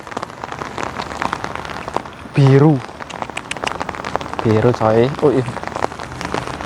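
Rain falls steadily on a surface outdoors along Route 66 in America, a constant close patter running under people talking and exclaiming.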